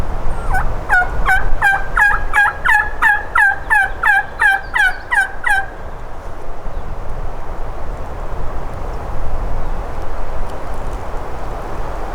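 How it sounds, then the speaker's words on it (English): A wild turkey gobbler gobbles in a rapid series of rattling calls for several seconds, fairly close, on a windy day, then stops, leaving low outdoor background noise. "we heard a gobble"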